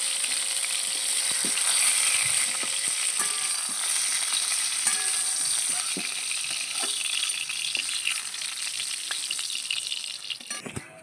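Pointed gourd (potol) pieces fry in hot oil, a close steady sizzle with occasional stirring clicks and rattles, fading toward the end.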